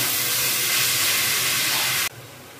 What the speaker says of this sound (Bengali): তেলটা গরম হয়ে গিয়েছে, এবার এতে আমি যে মেথি শাকটা কুচিয়ে রেখেছিলাম সেটা ছেড়ে দিচ্ছি।